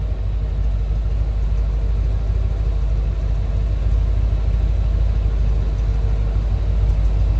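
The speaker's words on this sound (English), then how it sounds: "Nice deep throaty exhaust note." A 1969 Chevrolet Corvette coupe's engine runs at a steady idle from behind the car, giving a continuous deep, throaty exhaust rumble that stays loud and even throughout, with no talking.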